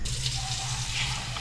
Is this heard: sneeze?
no